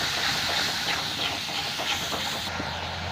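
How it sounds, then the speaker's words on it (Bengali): Tomato with salt, turmeric and chili powder fries in a pan over lowered heat, giving a continuous close hissing sizzle. "মশলাটা ভালো করে ভেজে নেব।"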